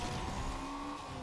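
An Acura Integra pulling away in the NFS Unbound racing game, a brief, faint engine drone with a steady tonal whine and a touch of tire noise, heard alone.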